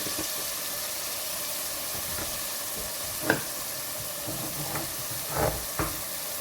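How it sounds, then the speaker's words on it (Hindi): Spices fry in a pot for boneless chicken handi, a soft continuous sizzle with a few louder stirring scrapes and clinks near the end, no talk. "इसको भूनते हैं मसालों को।"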